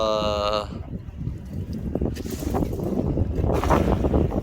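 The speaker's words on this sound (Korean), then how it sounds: "바람 많이 부네" Strong wind gusts across a fishing boat at sea at night during cast-net mackerel fishing, a steady loud rushing roar with surges, while people talk over it.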